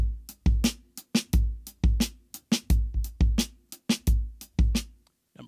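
A drum kit plays a busier groove from an exercise book, with frequent kick drum thumps, snare cracks and cymbal hits in a dense, steady pattern, close and loud, before stopping just before the end.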